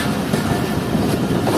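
A train rumbles loudly and continuously at Jhelum railway station, a dense rolling roar with faint rhythmic wheel clatter and no speech.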